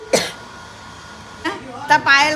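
A single sharp cough, followed after a pause by a person speaking.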